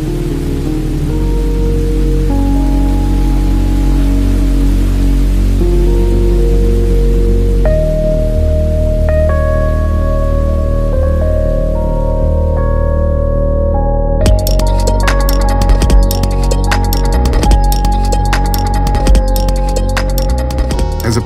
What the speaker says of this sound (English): Rain simulation tests cabin water sealing. Here it rains regardless of the weather outside.